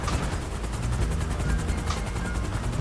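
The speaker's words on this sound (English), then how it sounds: "I think you'll find that you want to get in this helicopter and meet me." A helicopter in the GTA video game flies with a loud, rapid, steady rotor chop and thick engine roar, close up and constant throughout.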